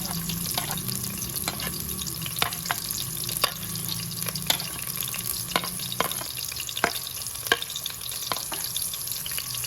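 Onions frying in hot ghee in a kadai, a steady close sizzle and crackle with a low simmering hiss, punctuated by regular clinks and scrapes of a spoon stirring against the metal pan.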